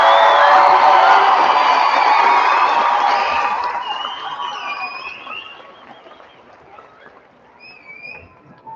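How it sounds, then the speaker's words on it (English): Audience applause and cheering for 8th grade ELD program graduates at a continuation ceremony: a loud, dense wash of clapping and crowd noise with whoops and whistles, gradually fading to scattered sounds. "Give a big round of applause."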